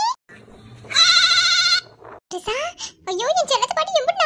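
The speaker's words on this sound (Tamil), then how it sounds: "என்ன அந்த ஆட்டுக்குட்டி சத்தம் போற மாதிரி சவுண்ட் கேக்குது" A young goat kid bleats in a long wavering cry, followed by further broken bleats and high calls, close by with some background voices in a home setting.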